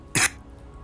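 A single short, sharp cough burst from one person, close and fairly loud, lasting a fraction of a second and followed by quiet room tone.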